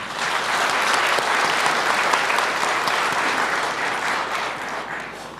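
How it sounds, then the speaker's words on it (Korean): Audience at a Korean Labour Day commemoration ceremony gives sustained, dense applause that stays loud and even from start to finish, with no speech over it. "우리 이분들께 그동안의 노고에 감사의 마음을 담아 박수 한번 보내주셨으면 좋겠습니다."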